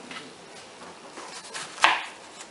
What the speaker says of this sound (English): Make a series of cuts pointing towards the root. And then you cut from the end.